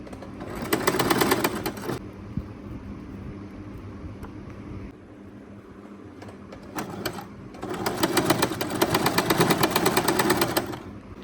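A sewing machine stitches the joint of a princess-cut blouse in two fast whirring bursts, running for about a second and then for a longer stretch, with a quieter pause and a few clicks between them.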